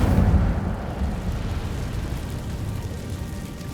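An Incendio fire spell cast in Hogwarts Legacy: a low, rumbling whoosh of flame that bursts at the start and then settles into a sustained, fading roar.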